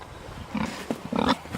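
Pigs kept on pasture grunt in a few short, low bursts, moderately close, with soft ambient noise between them.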